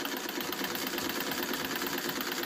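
A treadle sewing machine with a new belt runs quietly and continuously, a soft, even whirring hum with faint rapid ticking.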